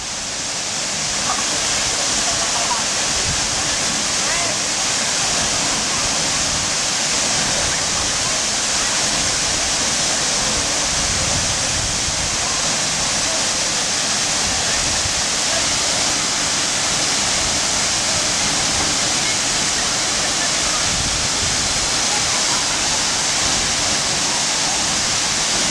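Khun Korn waterfall in Thailand roars as a steady, loud broadband rush of falling water, continuous and unbroken from start to finish.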